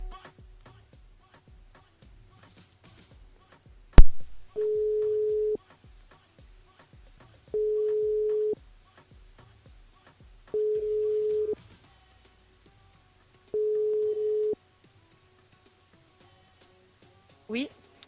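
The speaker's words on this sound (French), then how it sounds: "On appelle Lucie sur le standard du côté de Saint-Louis." A telephone ringback tone sounds during a radio phone-in as the host calls a listener, four steady beeps of about a second each, evenly spaced over a rhythmic music bed, with a sharp click near the start.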